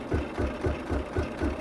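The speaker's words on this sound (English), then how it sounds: "So I'm going to let this continue to stitch out." Embroidery machine stitching out fused scraps of interfacing, a close, steady rhythmic thumping of the needle at about four beats per second, continuous and without talking.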